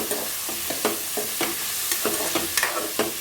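Chopped mint leaves frying in oil in a pan for spicy usali, a steady close sizzle under frequent spatula scrapes and stirring clinks.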